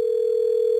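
A payphone line gives a single steady electronic telephone tone, loud and unbroken for under a second, with no voices.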